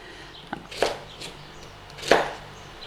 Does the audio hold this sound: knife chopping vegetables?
yes